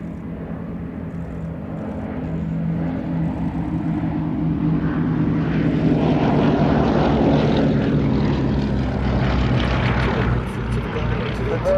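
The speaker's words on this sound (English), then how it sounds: "Now, the Blenheim and the 2 Lysanders." A Bristol Blenheim flies with two Lysanders at a Battle of Britain air show at Duxford, their piston engines droning steadily and swelling louder as they pass, with a commentator talking over them.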